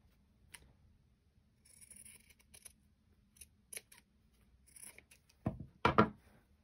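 Scissors snip bits of fabric off a craft piece in a quiet room, a series of short, crisp cuts spaced irregularly, the last few louder and closer.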